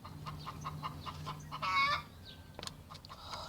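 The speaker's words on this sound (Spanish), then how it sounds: "Oh, ya va a empezar la gallina." A hen clucks in a series of short, repeated calls close by, followed by a louder squawk, with faint household noise and a soft shushing voice near the end.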